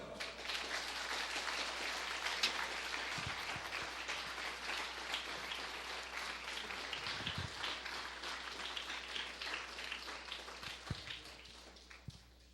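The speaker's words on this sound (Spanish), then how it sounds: "un fuerte aplauso." Church congregation clapping for Christ during a sermon, a dense, steady patter of many hands that runs for several seconds at moderate loudness and tails off near the end.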